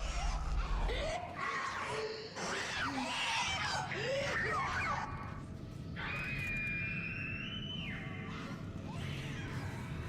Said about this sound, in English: That could just be a screaming child, to be fair.